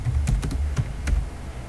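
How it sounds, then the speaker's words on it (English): Keys clatter on a computer keyboard while text is typed into a word-processing document, a quick irregular run of close, crisp taps with short pauses between bursts. "Let me type something on this Word document."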